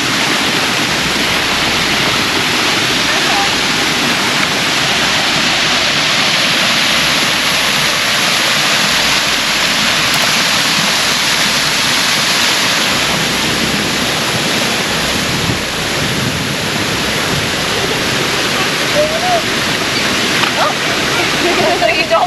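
DeSoto Falls, a waterfall in Alabama, gives a loud, continuous broadband rush of falling and splashing water, steady and near throughout, with voices faintly mixed in.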